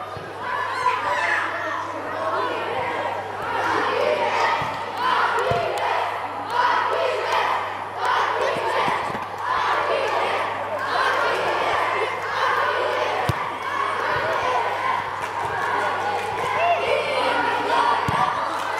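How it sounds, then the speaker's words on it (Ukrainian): Crowd at a youth football cup final shouting and cheering from the stands, a dense steady roar of voices with occasional sharp thumps, continuous and fairly loud. "овації та галас вболівальників"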